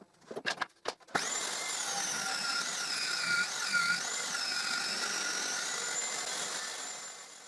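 A power saw rips strips from a thick planed wooden plank, a few sharp knocks at first, then a loud steady whine as the blade cuts through, fading slightly at the end.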